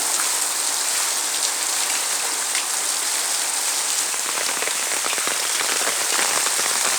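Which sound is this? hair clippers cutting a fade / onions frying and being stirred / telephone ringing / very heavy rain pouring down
very heavy rain pouring down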